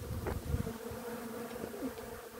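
Bees swarm over large Garibaldi hazelnut catkins, a dense continuous buzzing drone close by, with individual insects passing nearer now and then.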